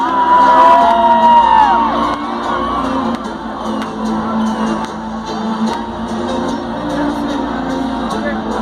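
A large crowd at a town festival in Cachoeira de Minas shouts, whoops and cheers together, loud and sustained for several seconds with voices over the top.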